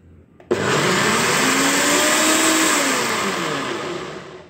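A mixer grinder grinds dhirde batter, starting abruptly with a loud, steady whirring drone that holds almost unchanged for about four seconds and eases slightly toward the end.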